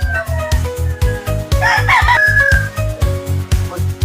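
A rooster crows loudly over a steady, pulsing mechanical beat and background music, standing out clearly for about a second in the middle.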